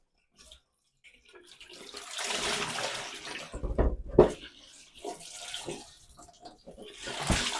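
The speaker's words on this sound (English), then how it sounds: "this time we're going to focus on running the water" Water runs out of the tap of a Pinter 3 home brewing device during cleaning, starting faint and swelling into a steady splashing stream with a louder gush near the middle, close up and without speech.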